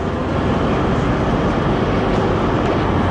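Class 387 electric train at a London terminus, heard as a steady, loud, broadband station rumble with engine-like hum and no clear talk.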